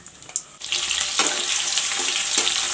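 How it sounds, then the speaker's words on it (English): Chopped onions dropped into hot oil in a pan with cumin seeds, a sudden rush of loud close sizzling that starts after a brief quiet moment and keeps hissing steadily. "Now I will put in the onions cut up."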